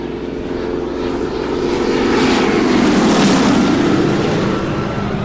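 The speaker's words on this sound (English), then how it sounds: "Those are warplanes!" Warplanes fly overhead above New York as a radio drama effect, a loud, broad engine roar that swells to a peak mid-way and then eases slightly, with no voices over it.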